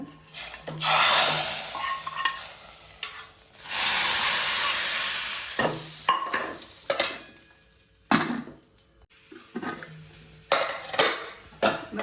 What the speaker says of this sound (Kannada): ಒಗ್ಗರಣೆ ರೆಡಿ ಆಡು ಮಲ್ತಿತ್ತಿನ ರಸಮ್ಗು ಈ ಒಗ್ಗರಣೆ ಪಾಡ್ಕ